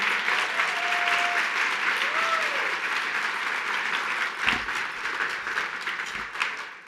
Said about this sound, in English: Let's go all give him a big round of applause.